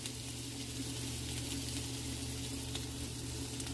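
A piece of beef rosette sears in a hot pan with a steady, even sizzle that holds at a constant level throughout, close and unbroken, with no talking.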